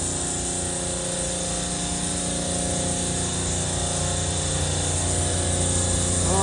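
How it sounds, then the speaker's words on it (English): A Copeland Digital Discus scroll compressor runs steadily up close, a loud continuous mechanical hum with layered tonal whine and a faint high hiss, unchanging throughout with no speech. "take a look at the compressor sound"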